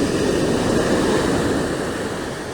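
Ocean waves washing onto the beach at Legon Pari, a steady broad surf wash that stays loud and continuous throughout with no voices.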